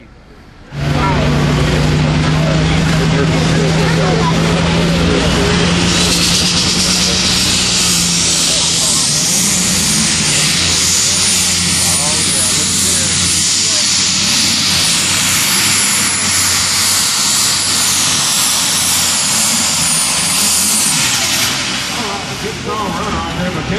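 A tractor roars through a pull run at Hillsboro: a loud, sustained engine drone that starts suddenly and holds for about twenty seconds with a shifting pitch, then tails off.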